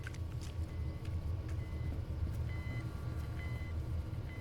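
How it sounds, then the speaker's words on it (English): Repeated electronic beeps sound in an INFRA game level, short evenly spaced tones about once a second over a low mechanical hum. "There's something beeping here."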